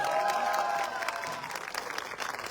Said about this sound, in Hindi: एक बार सर के लिए जोरदार ताली हो जाए